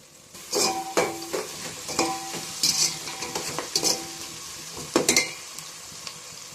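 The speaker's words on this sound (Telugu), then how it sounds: "ఆనియన్స్ బాగా వేగేదని కొంచెం సాల్ట్ మిక్స్ చేసుకున్నాము." Onions frying with a pinch of salt in a pan for mushroom dum biryani, stirred with repeated scraping strokes over a steady close sizzle, no voices.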